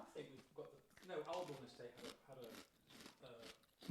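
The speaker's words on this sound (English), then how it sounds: "Just see you munching crisps." Crisps munched close up, with crunchy, crackling bites coming in irregular bursts beneath people talking.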